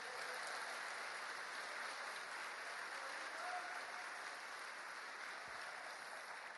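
A church congregation gives a strong round of applause during a Portuguese-language sermon, a dense, even wash of many hands clapping throughout, steady and fairly distant, with no speech over it.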